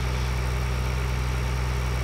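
A tractor engine in the video game Farming Simulator 2013 idles with a steady low rumble and hum, constant and close throughout with no talking over it.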